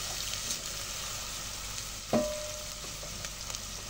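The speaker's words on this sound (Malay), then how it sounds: "kita tumiskan dia. Sampai bawang dia naik bau." Chopped onions sauté in a pan for a chicken curry, giving a steady, soft sizzle throughout with one sharp metallic clank of a utensil midway and a few light scrapes afterward.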